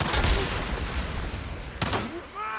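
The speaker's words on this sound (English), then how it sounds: "that explosion that I set off there" An explosion set off in the video game Days Gone sends out a loud, broad boom at the start and a second sharp blast near the end, with rumbling debris and scattered tones between them.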